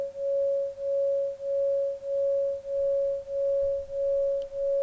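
Two sine waves in FL Studio's 3xOsc synth, one detuned by 5 cents, hold one steady tone that swells and dips in a slow, even beating pulse, about eight throbs across the clip, with no voice.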